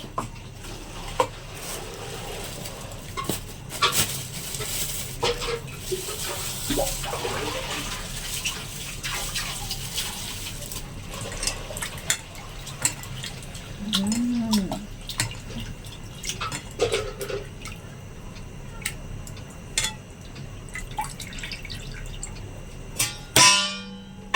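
Raw meat is washed under running water in a home kitchen, a continuous splashing stream with scattered clinks and knocks against a pot or sink, fairly faint and close, with no talk.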